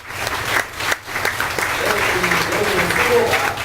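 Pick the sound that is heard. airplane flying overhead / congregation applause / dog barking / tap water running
congregation applause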